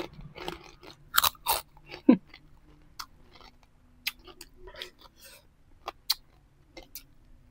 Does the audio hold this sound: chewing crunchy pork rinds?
yes